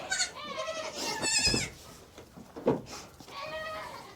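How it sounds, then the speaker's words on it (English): Several young Nigerian goats bleating close by, high quavering cries overlapping one after another, with some rustling between calls. "Hey, baby goats!"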